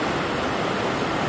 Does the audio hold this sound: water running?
yes